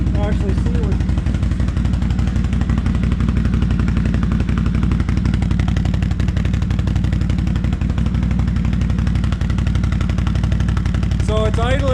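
A 2019 Can-Am Outlander 650 XMR ATV fitted with a Yoshimura slip-on exhaust idles loud and close with a rapid, even, popping throb for the whole stretch, while a voice talks over it.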